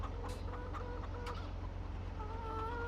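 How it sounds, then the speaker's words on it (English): Chickens cluck repeatedly in a farmyard in the video game Farming Simulator 17, with several soft calls over a low steady engine hum, faint and with no voice. "And those chickens"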